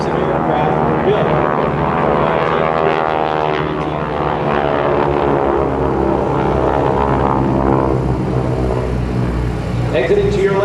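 Vintage GEICO Skytyper airplanes with 600 hp Pratt & Whitney radial engines at a military open house, a loud, continuous droning roar passing close by, with a faint voice underneath.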